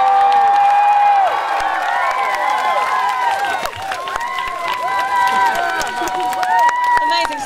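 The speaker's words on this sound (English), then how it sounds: "please let's give him one more massive round of applause for James" An outdoor crowd applauds and cheers for torchbearer James at the 2012 Olympic torch relay in Andover, with sustained clapping, shouts and children's voices over a loud, steady crowd roar.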